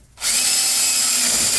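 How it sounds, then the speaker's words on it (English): A power drill bores through a Bearhawk aircraft spar part backed by wood, starting abruptly and then holding a loud, steady high whine throughout. "And so now I have this piece drilled."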